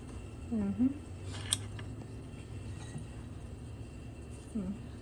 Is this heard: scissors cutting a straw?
yes